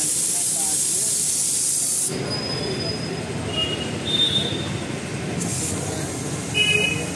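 Spray painting a 70-foot eco-friendly Ganesh idol at Khairatabad, a continuous loud airy hiss of a spray gun with shifts in intensity and faint high squeals, speech faintly underneath.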